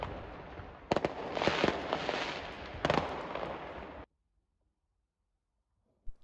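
Fireworks on Bonfire Night in England, a loud burst of crackling and popping explosions lasting about four seconds, then sudden silence broken by one brief pop at the end.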